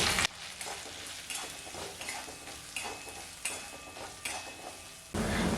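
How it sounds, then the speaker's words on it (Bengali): Ground spices fried in a pan while being stirred, a steady sizzle broken by repeated scraping strokes of a spatula at a steady pace, close by and without any talking. "মশলাগুলোকে খুব ভালো করে একসঙ্গে মিশিয়ে 1 মিনিটের মতন আবারও নাড়াচাড়া করে মশলাগুলোকে একটু ভেজে নিয়েছি।"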